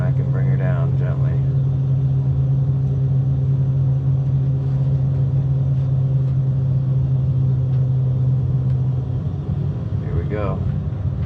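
A small plane's engine drones steadily at full throttle against strong wind on the approach to a Donegal airfield, a loud continuous hum with a voice speaking briefly at the start and near the end.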